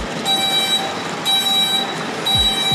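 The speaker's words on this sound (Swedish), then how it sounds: "Bästa är att han sitter och manuellt tutar där inne nu." A car horn pressed by hand from inside a vehicle sounds in three steady, loud blasts of about half a second, evenly spaced about a second apart, over a noisy background with no talking.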